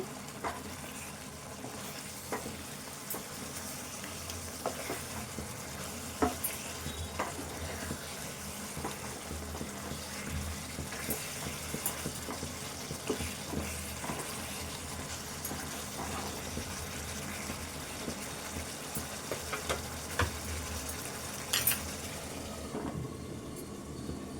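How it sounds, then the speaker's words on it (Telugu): Chicken frying in a pan with green chilli masala, a steady close sizzle broken by irregular scraping and clinking as it is stirred throughout, with no talking. "మళ్ళీ ఒకసారి కలుపుకుందాము ఇట్లా ఉడుకుతుంటే కలుపుకుంటూనే ఉండాలి"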